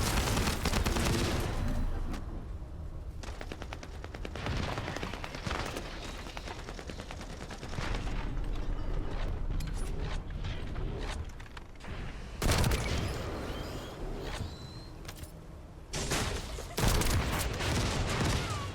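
Rapid bursts of weapon fire from the video game The First Descendant, loud and dense, with booming impacts and brief lulls between volleys, heard alone without talk.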